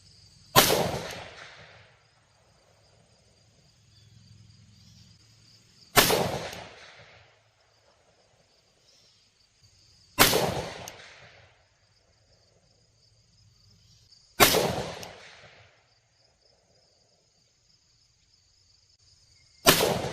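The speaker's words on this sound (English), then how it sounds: "We're going to shoot 5 rounds of 69 grain OTM through a Daniel Defense MK12." Daniel Defense MK12 rifle firing 69 grain OTM 5.56 rounds outdoors: five loud, sharp shots evenly spaced about four seconds apart, each with a brief decaying echo, over faint background insects.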